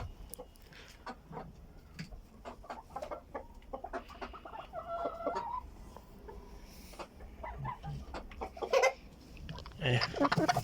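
Farm chickens cluck in scattered bursts, near and fairly clear, with a few louder squawks toward the end while someone speaks intermittently.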